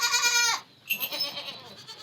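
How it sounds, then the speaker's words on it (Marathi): A goat gives one loud, wavering bleat close by, followed by quieter rustling and shuffling noises. "काजल म्हटल्यानंतर आवाज येते ना त्या बकरीचे"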